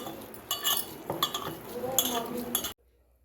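Rice mixed by hand in a bowl with ground tomato and cumin, clinking of utensils against the dish and soft stirring, close and fairly loud, in short irregular bursts.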